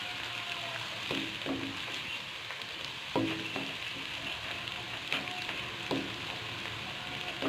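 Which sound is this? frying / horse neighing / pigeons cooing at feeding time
frying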